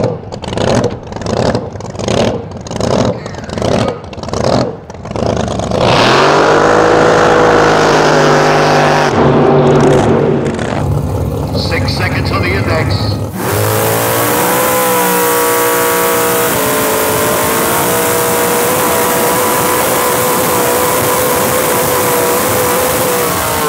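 A drag car with a 632ci V8 makes a solo run down the strip: a series of sharp revving blips, then a loud full-throttle launch and a sustained high-rpm roar that shifts into a steady engine drone as it pulls away.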